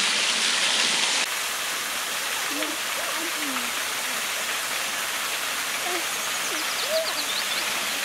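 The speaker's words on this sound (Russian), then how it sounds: "Очень красивый водопад." Guralsky waterfall in the Khmelnytskyi region, a constant broad rush of falling water heard close and steady, with a brief louder burst at the start and a few faint whistling calls over the roar.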